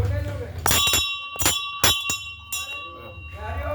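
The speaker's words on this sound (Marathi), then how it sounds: "हे बघा ही घंटी आमची" A Hanuman temple bell is struck about five times at uneven intervals on a Saturday morning. Its metallic ring hangs between strikes while voices murmur in the background.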